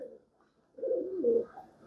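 Soft, low cooing from a pigeon, a couple of murmuring phrases close by with brief quiet between them.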